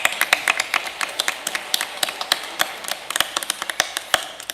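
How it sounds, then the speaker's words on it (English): Scattered hand claps from an audience at a school board meeting as the boys and girls track teams and coaches walk to the stage, sharp irregular claps at moderate distance, sparse rather than a full ovation. "you can clap one way up"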